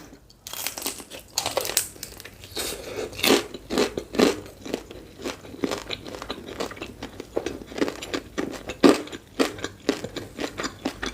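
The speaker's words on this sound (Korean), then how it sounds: "꼭꼭 씹어 먹고 있는데 씹을 게 없어요" Someone in a live mukbang eats assorted dumplings (mandu), chewing and biting with close, crunchy, moist mouth sounds in an irregular stream that runs steadily throughout, with no talk.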